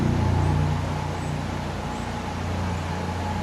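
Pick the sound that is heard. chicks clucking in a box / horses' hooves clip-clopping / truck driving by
truck driving by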